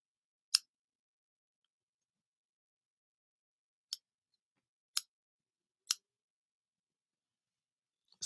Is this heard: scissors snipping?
yes